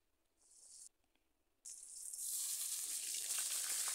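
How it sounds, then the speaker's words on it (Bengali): Rui fish pieces frying in hot oil in a pan, a soft brief hiss, a pause, then a loud steady sizzle that swells and holds close by, with no talk. "এভাবে আমি মাছ লাল লাল করে ভেজে নেব আরও 2-3 মিনিট।"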